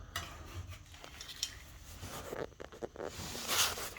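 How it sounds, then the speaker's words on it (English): A scraper works around the edge of a bathtub spout, producing soft, irregular scratching and light metallic clicks close by, with a few sharper scrapes and a brief hissy rasp near the end. "then I'm gonna scrape this area"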